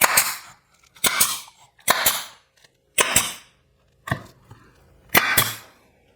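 A brad nailer fires nails into wood pieces while building a large wooden pumpkin, six sharp pneumatic cracks spaced about a second apart, each with a short hiss of air, close and loud with silence between.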